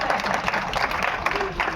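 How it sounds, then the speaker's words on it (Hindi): An audience applauds after a speech at an evening literary gathering, dense steady clapping throughout with some murmuring voices underneath. "मेरी तकरीर खत्म हो गई है तो ताली बजा सकते हैं आप।"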